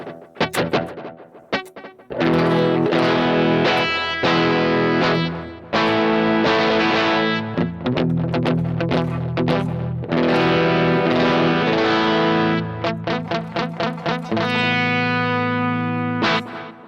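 An electric guitar, somewhat distorted, played through a stereo tape delay set to dotted eighths, with chords and single notes trailing off in repeating echoes that fill the gaps between loud strummed phrases.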